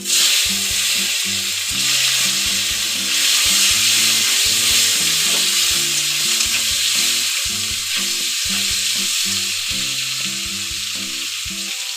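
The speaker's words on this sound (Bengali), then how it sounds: "এবার আমি দেব কুচি করে রাখা টমেটোগুলো" Chopped tomatoes fry in a pan for a vegetarian cabbage curry along with bay leaves, slit green chillies and whole cumin, giving a loud, continuous sizzle under steady music. No one speaks.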